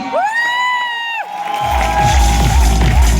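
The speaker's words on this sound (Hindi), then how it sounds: "एक बार जोरदार ताली" An audience at an Enagic business seminar gives loud cheering and clapping after a rising whooping shout, with a heavy, rhythmic bass beat pounding underneath.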